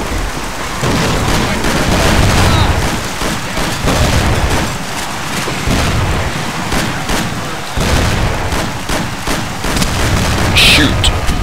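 Repeated gunfire in the Mafia video game during a break-in shootout, loud crackling bursts and booms rolling on continuously for the whole stretch, with voices shouting underneath.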